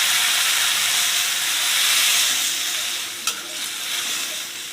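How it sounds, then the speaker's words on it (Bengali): A pan of kakle fish curry with ridge gourd, green chilli, salt and turmeric hisses and sizzles steadily as water goes in. Close, bright steam noise runs throughout, with one brief sharper burst near the end. "এখন আমি জল দেব বেশি জল দেব না"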